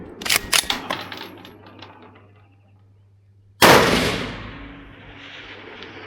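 Carbine rifle shots fired at a 400 m target during match prep on an outdoor range: a cluster of sharp cracks early on, then one loud close shot with a long rolling echo that slowly fades.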